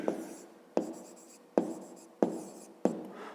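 Pen or pencil strokes on paper during a fifth-grade maths lesson, five sharp scratchy onsets at regular intervals, each trailing off into softer writing, close and alone with no talk.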